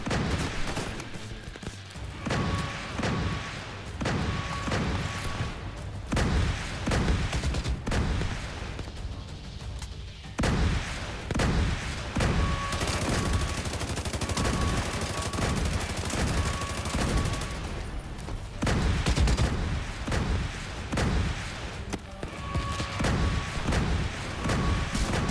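Sustained, dense gunfire and explosive booms from missile turrets in The Division 2, during the Dark Hours raid, loud and continuous with brief tonal alert beeps over the barrage.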